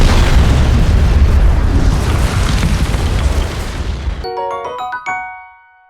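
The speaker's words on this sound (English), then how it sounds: "and then suddenly, bang! You just got blue shelled" Blue shell explosion in the Mario Kart video game: a long, loud roaring blast that rumbles for several seconds, then cuts to a bright chiming jingle of game tones that fades out.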